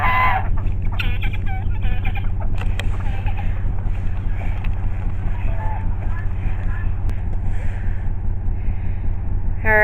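Poultry calls, a rooster's crow and goose honks, ring out over a steady low hum in a farmyard with ducks, with scattered clucks and squawks throughout.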